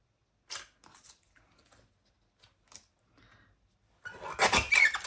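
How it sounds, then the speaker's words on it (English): Paper for a handmade baby card being trimmed gives a few sparse snips and clicks, followed by a louder rasping cut at the end, close up in a quiet room. "Now, I might just trim this one down too now"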